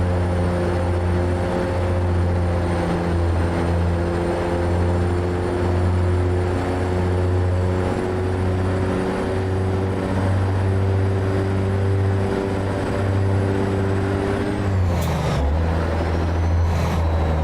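A truck driving in American Truck Simulator gives a steady, loud engine drone with layered low tonal hum throughout, and the pitch drops near the end as it slows, followed by a brief hiss like an air brake.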